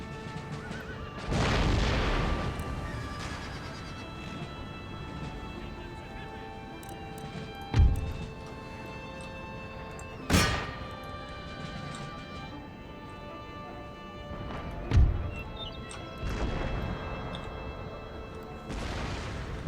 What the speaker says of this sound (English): massive cannon hit on their general's unit right there